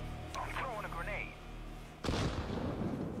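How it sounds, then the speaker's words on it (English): A grenade blows up in a first-person shooter video game, a sudden loud broadband blast that rumbles and crackles for about a second after a stretch of game chatter and ambient noise. "I'm throwing a grenade."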